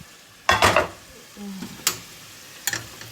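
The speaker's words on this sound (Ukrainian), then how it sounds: "тут у нас м'ясо ми скинули, щоб воно нам тушилося. Дали чуть-чуть олійки." Brief stirring and scraping of meat frying in a little oil in a pan, with a soft sizzle underneath and a few quick bursts of clatter, close by.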